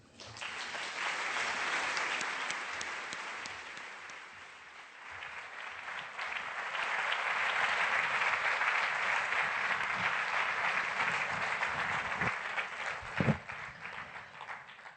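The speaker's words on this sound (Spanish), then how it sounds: "No me gusta mucho que me aplaudan al llegar." An audience in a hall at a literary talk in Bilbao gives steady, dense applause for about fifteen seconds as the author arrives, dipping briefly and then swelling again, with no talking.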